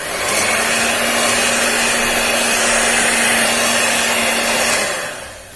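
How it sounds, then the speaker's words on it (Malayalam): An electric hand beater whirs steadily for about five seconds, beating cream with powdered sugar and vanilla essence for a white forest cake. The motor hum is loud and even, then cuts off near the end. "ചെറുതായിട്ടൊന്ന് ബീറ്റ് ചെയ്തെടുക്കാം."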